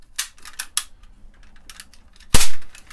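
A toy cap gun pops several times in quick, sharp snaps, followed after a short gap by one louder, closer crack that rings out briefly.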